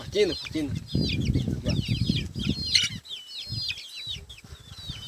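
Chickens cluck and a rooster calls among chirping birds in Maragogipe, with people talking nearby and some rustling throughout.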